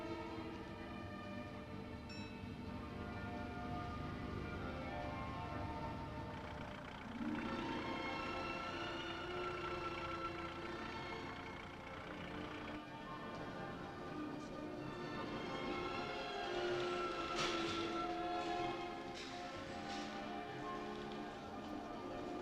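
A steam locomotive stands at a British station in 1969, preparing to leave, with steady hissing and rumbling throughout and tonal whistle-like blasts near the middle and end, loud and continuous.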